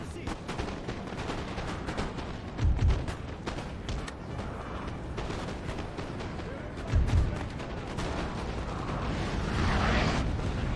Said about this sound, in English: Oh, nice cannon shots coming through.